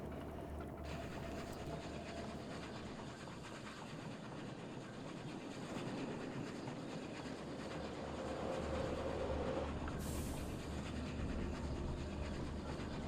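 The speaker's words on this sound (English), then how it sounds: "as soon as the train starts going" A long train runs along its track in the video game Oddsparks, giving a steady, continuous rumble with faint rhythmic clatter and a brief brighter swell near the end.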